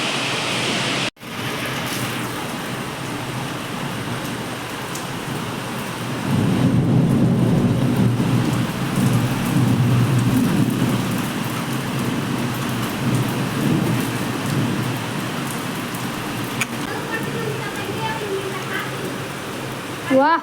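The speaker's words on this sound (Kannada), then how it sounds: "ಅಣ್ಣಾಹುತ ಮಳೆ" Heavy rain pours steadily during a thunderstorm in Hubli, a dense roar that swells louder midway, with low rumbling thunder rolling underneath.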